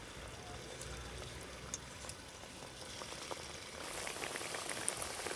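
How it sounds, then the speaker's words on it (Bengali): Potato snacks deep-fry in hot oil over medium heat, giving a faint, steady bubbling sizzle that grows slightly louder and busier toward the end. "এবার কয়েকটা স্ন্যাক্স এই তেলের মধ্যে দিয়ে লাল লাল করে একটু ভেজে নেব।"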